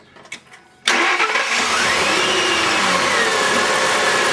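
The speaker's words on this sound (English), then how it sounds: "Now, we're going to start the motor." A car engine cranks briefly and catches, then settles into a loud, steady idle close by, with fuel-injection troubleshooting under way and no talking.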